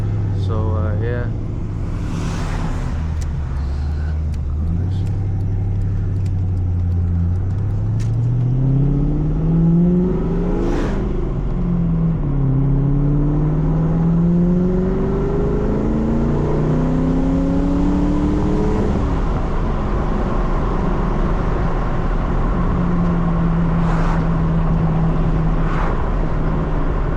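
A dirty old Ford Mustang with an oil leak heard from inside while driving, its engine rising through repeated revving accelerations with gear changes, loud and close, then settling into a steady cruise with road noise.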